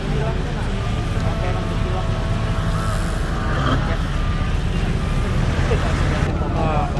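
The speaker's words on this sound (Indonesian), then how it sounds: "Berikut kita saksikan bersama jumlah sepeda motor yang cukup banyak dan mobil yang cukup padat" Heavy traffic jam of many motorcycles and cars on a road in a flood-hit area of South Kalimantan, a dense continuous rumble of engines with occasional horns, close and loud, while someone talks over it.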